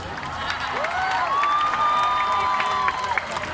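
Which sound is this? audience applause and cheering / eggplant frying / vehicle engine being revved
audience applause and cheering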